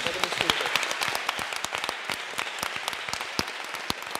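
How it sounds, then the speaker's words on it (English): Moderate audience applause for a panel at a conference discussion, scattered clapping that stays fairly even for a few seconds, somewhat distant. "you really deserve a big round of applause for your intervention"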